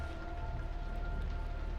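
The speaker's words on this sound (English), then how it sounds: "Because I don't really want my sound to be overpowered by rain." Steady, soft rain ambience from a video game, a constant hiss with no thunder and no talk over it.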